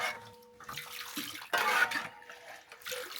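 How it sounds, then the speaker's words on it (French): Water pours into a pot of yellow taro sauce being prepared in a village kitchen, a close splashing, gurgling stream that surges and eases in uneven bursts, with no talk. "Tu ajoutes l'eau."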